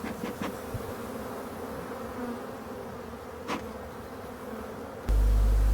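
Honeybees hum steadily around a young spring split hive set in a hornet-troubled apiary, a dense continuous drone close by with a few sharp knocks and a loud bump at the end.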